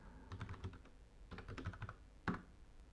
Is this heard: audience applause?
no